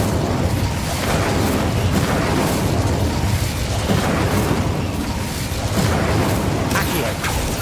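Incendio fire spell in Hogwarts Legacy, a steady loud roaring, crackling burst of flame going on throughout amid other dense combat effects.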